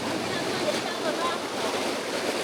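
Rapids roar on the Nantahala River in a steady, loud rush of churning water with broadband hiss and no breaks.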